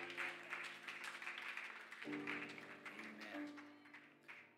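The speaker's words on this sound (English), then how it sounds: "Let's clap our hands with all of our might to the Lord." A church congregation claps along with worship music, a dense and continuous patter of hands blended with sustained sung or played tones throughout.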